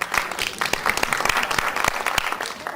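An audience at a music and dance event claps in a dense burst, with sharp individual claps standing out above the crowd over a few seconds.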